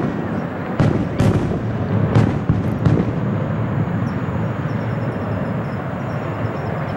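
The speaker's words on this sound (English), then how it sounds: "Because they are about to begin the fireworks." Stadium skyshow fireworks going off in a darkened stadium: several booming bursts in the first few seconds over a constant broadband crowd-and-crackle wash, then continuous rumbling noise with no speech.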